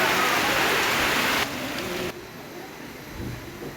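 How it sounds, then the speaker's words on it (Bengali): Dense hiss of falling rain, loud at first, then stepping down twice to a softer steady patter. "হঠাৎ করে বৃষ্টি চলে এলো"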